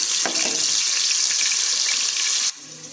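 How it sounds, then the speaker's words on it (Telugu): Onion paste hits well-heated oil for a chicken curry and sets off a loud, bright, hissing sizzle that holds steady, then drops sharply to a quieter crackle near the end. "నూనె బాగా వేడెక్కింది. ఇప్పుడు ఉల్లిపాయ పేస్ట్ వేసుకున్నా."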